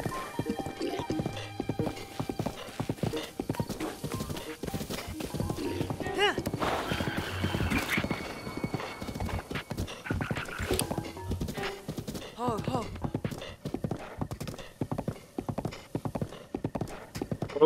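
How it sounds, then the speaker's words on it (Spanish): Rapid, continuous hoofbeats of a horse in The Legend of Zelda: Breath of the Wild, close and loud, with a whinny partway through and speech over the top. "Este es mi primer caballo."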